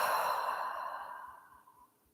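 A person exhales slowly and steadily during a guided relaxation, a soft, breathy sigh that fades gradually to quiet over about two seconds.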